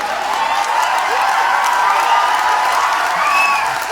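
An audience cheering and shouting with whoops and scattered clapping, a dense steady roar of many voices heard loud and close for the whole stretch.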